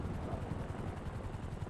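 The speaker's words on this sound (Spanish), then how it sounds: "El helicóptero trae un regalito para nosotros." A helicopter in a GTA roleplay game descends overhead, a steady loud rotor thump and engine roar filling the moment without any talk.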